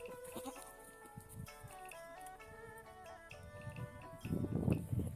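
Nubian and LaMancha goats on a farm bleat repeatedly and close by, their wavering calls overlapping, with a busier, louder stretch of sound near the end.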